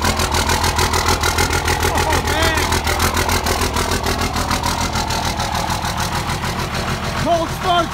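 A 24-valve Cummins diesel in a Dodge idles after a cold start at 12 degrees with no plug-in, its rough, steady chugging loud and close throughout, with brief voices calling out over it.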